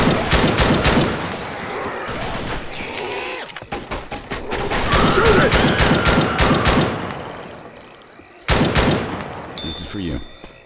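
Rapid bursts of automatic gunfire and shotgun blasts in the zombie shooter Left 4 Dead 2, loud and dense with short pauses between volleys, mixed with mechanical reload clicks and a player voice shouting over the din.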